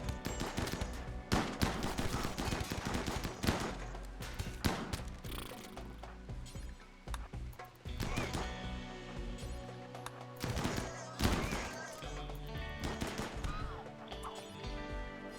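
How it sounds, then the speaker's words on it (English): Grenade explosions in a chaotic video game firefight, dense repeated crashing bangs and thuds throughout, loud and cluttered with overlapping impacts and no clear talking. "Did I just hear a grenade?"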